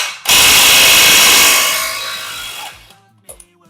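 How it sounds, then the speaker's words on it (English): An impact wrench hammers loose a tight axle nut on a 2004 CR250 motorcycle, one loud rattling burst of more than two seconds that winds down and fades to a few small clinks. "So we'll put the impact on it and see how it goes."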